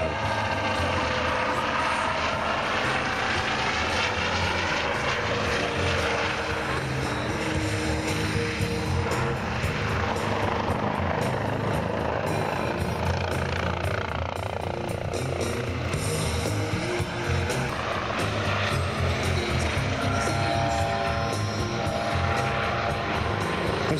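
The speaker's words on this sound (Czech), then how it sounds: "Teď se s námi vrtulník pravděpodobně rozloučí tím, že nám zamává." A helicopter flies a display at the NATO Days air show in Mošnov, Czech Republic, its rotor and engine roar loud and continuous with no break, while a commentator's voice sits faintly beneath.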